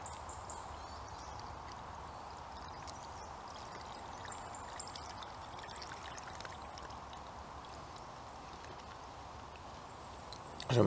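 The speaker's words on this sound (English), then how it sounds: "Not that it's that exciting to watch, just me pouring some water in here" Water poured into a camping shower bag outdoors, a steady soft continuous stream lasting several seconds, fairly faint and close, ending with a brief louder knock.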